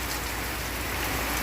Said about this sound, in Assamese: এনেকৈ থকা বৰষুণ যাক নেৰিবই নেকি